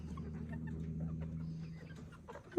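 A flock of chickens clucks nearby in short, scattered calls over a low steady hum, with a sharper squawk at the very end; no one speaks.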